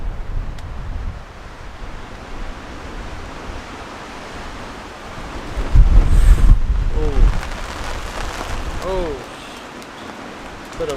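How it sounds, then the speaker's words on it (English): Strong wind gusts buffet a tent with rain, a steady broad roar that swells into a louder gust midway, with a voice speaking over it. "there is some huge wind gusts coming through"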